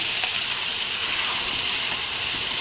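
Curry leaves, a little turmeric and ground tomato paste fry in hot oil for an old-style tomato chutney with dried red chilies, giving a loud, continuous close-up sizzle and hiss with no voices.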